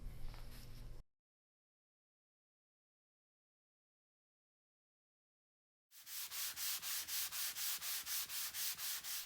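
A shellac finish on a walnut side table sanded by hand with 320 grit sandpaper, a quick run of even rhythmic rasping strokes, close and clear, after a short burst of other sound and a long silence.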